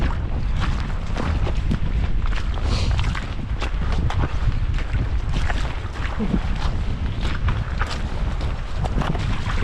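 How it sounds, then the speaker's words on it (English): Gusty wind buffets the microphone on a small boat out on the water during a solo moose hunt, a constant roaring rush with splashing and knocks mixed in, loud and close. "Wind's kicked up a bit, but that's all good."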